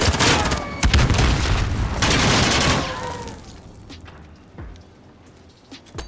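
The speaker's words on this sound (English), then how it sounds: "That's just a grenade." A grenade goes off in the shooter Call of Duty Modern Warfare, a loud booming blast with a rumbling tail amid scattered gunfire, fading to quieter sporadic shots and clicks afterward.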